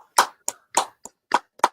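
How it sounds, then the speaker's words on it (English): Six separate bursts of handclapping roughly every quarter second, sharp and near, with silence in between, sounding like a few hands clapping rather than a crowd's applause. "Everybody better applaud."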